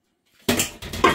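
A quick rattling clatter of chickpeas poured into a metal pot, two short bursts close by.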